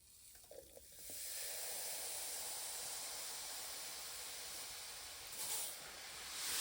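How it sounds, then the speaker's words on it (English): Washing soda dropped into about two liters of water in a pitcher, mixed for a tank used in restoring a 1965 Honda CB160 motorcycle, gives a steady, close hiss of fizzing that starts after a brief clatter and continues without talk. "Now this is going to fizz when I put it in."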